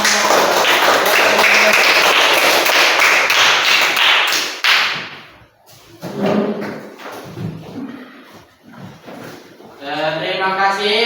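Classroom of students claps loudly for a presenting group for about five seconds, then the applause breaks off into scattered voices and talk.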